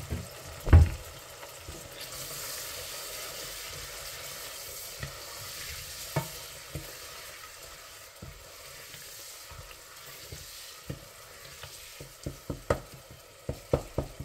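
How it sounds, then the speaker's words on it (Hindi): Soft, steady sizzle of spices with turmeric and coriander powder frying in a pan, with scattered spoon scrapes and stirring clicks, one louder knock near the start and more stirring taps toward the end. "अब इन मसालों को अच्छी तरह भून लेंगे।"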